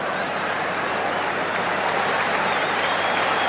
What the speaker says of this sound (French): le public applaudit, croyez-moi, à tout rompre ce rugby français